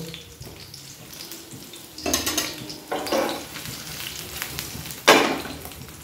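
Pointed gourd (potol) pakoras fry in hot oil in a pan with a constant low sizzle, broken by louder bursts of stirring and utensil scrapes against the pan, close and without speech.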